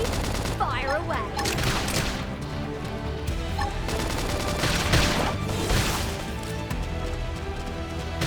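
Rapid bursts of gunfire and impact blasts erupt in Xenoblade Chronicles X combat, dense and loud with repeated crashes, while game character voices call out over the shooting.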